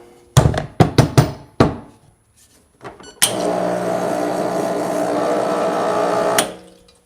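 A Niche coffee grinder starts after a run of sharp clicks and knocks, then grinds beans with a steady, close whir for about three seconds before spinning down.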